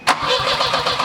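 Turbocharged Volvo engine cranking and catching, a sharp burst at the start followed by a quick, pulsing starter-and-firing rhythm, close and loud with no talk.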